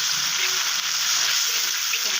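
Turmeric and chili powder fry in hot oil, giving a steady, close, loud sizzle that holds evenly throughout with no voices.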